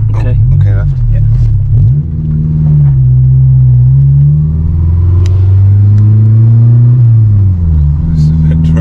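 A Honda S2000 fitted with a Skunk2 Megapower exhaust drones loudly from inside the cabin, engine pitch rising and falling through several rev changes over a heavy low rumble, with brief voices near the start.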